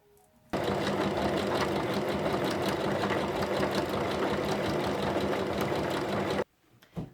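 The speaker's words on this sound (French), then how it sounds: "je vais venir surjeter donc les 3 côtés que j'ai assemblés" An overlocker serges three assembled sides of a fabric changing mat cover, running as a fast, steady mechanical whir for about six seconds before stopping abruptly.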